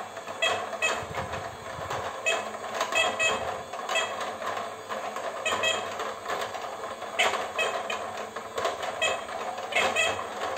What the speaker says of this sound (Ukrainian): Тут нажимається і качечки крутяться.